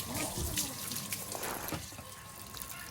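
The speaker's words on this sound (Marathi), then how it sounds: "मस्त पाणी मारून घेतो प्रेशरने, मजा येते पाणी मारायला." A pressure washer sprays water over parked vehicles, including a Yamaha MT-15 motorcycle, giving a steady, fairly faint hissing spray with slight splashing variations throughout.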